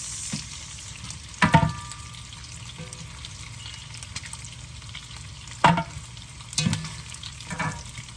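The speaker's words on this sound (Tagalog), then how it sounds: "Kasi gisahin po natin ang bawang sibuyas." Garlic and onion sautéing in hot oil in a pan, a steady close sizzle with a few louder bursts where the utensil stirs and scrapes through them.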